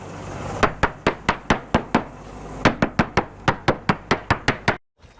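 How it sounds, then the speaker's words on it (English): A hammer taps a boat hull during a marine survey in a quick, even series of about twenty sharp knocks with a short pause midway, then stops. "Okay, Seth, while you got the hull all tapped out now"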